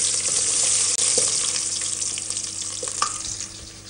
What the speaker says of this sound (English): When you hear that sizzle, it's a sign